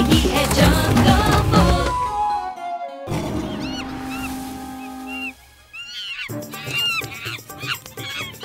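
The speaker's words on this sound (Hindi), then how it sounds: "जब अंधेरा हो जंगल में शेर खान घूमता है, उसके हुर्राने की दहाड़ वो भी सुनता है।" Tiger Shere Khan roaring in a jungle in a Hindi animated Jungle Book story, with loud deep growling roars over a musical score, a brief pause, then more roaring and animal cries near the end; no talking.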